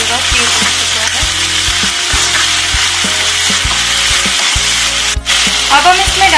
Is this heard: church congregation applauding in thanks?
no